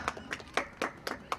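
At a gathering of saints and devotees honouring a guest, a handful of sharp hand claps ring out at a steady rhythm, faint and somewhat distant, with no talk over them.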